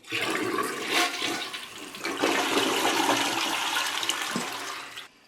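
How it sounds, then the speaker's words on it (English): A newly installed toilet on a low flange flushes in one continuous rushing surge of water lasting several seconds, close and loud, with the gurgle tapering off at the end and no talking. "We're going to go ahead and give it a flush, and hopefully we don't have any leaks."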